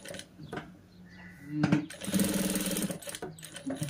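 An electric sewing machine stitches buttonholes on a child's long frock made from an old saree, running in short bursts with a sustained whirring stretch in the middle, close up.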